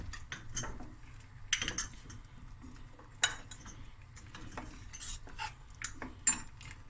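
A clean metal spoon clinks against pots and dishes while a Cape Town–style seafood boil is tasted and seasoned. Sparse, light metallic taps and clatters ring out close by over a low kitchen rumble, with no talking.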